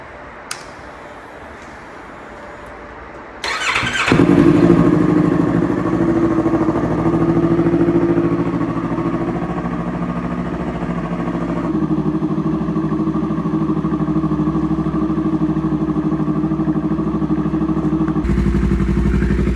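A 2026 Yamaha R3 motorcycle with an Akrapovic slip-on exhaust starts up abruptly and settles into a loud, steady idle with a rumbling, throaty exhaust that continues close by.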